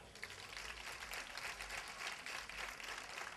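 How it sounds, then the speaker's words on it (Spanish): Steady applause from an audience at the presentation of the poster for the festivities honoring the Virgen del Mar, a dense, even wash of clapping held throughout at moderate, slightly distant level with no voices. "A todos ellos un fuerte aplauso"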